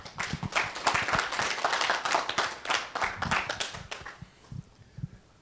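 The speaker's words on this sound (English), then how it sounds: "Let's welcome and give a big round of applause to Mr." A seminar crowd at a millionaire-mindset bootcamp gives a round of applause to welcome a speaker. Sharp, fairly sparse hand claps come in quick bursts, then fade out near the end.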